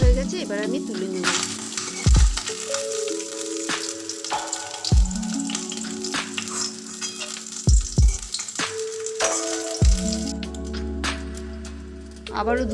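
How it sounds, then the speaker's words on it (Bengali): Small chuno fish frying in hot oil give a continuous hiss with occasional sharper crackles, heard under steady tonal background sounds and occasional low thumps. "মাছগুলো ভাজা হয়ে গেছে, এবার আমি তুলে নেব।"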